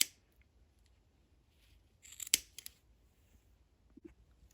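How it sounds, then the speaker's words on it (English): Scissors snip through yarn while trimming a crochet cat hat: a few crisp cuts cluster together, then one more snip follows a moment later, all quiet and close in a still room. "So just keep cutting and just pray that it will all work out."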